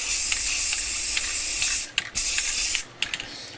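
Aerosol primer sprayed onto a miniature Viper model, a loud close hiss in sustained bursts broken by short gaps and a few quick taps of the nozzle, no voices.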